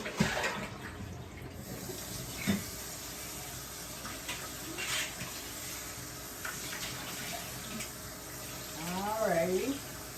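A kitchen tap runs water for rinsing during pork roast preparation, a soft continuous stream with splashes and clatter, under brief talking, with a rising whistle-like sweep near the end.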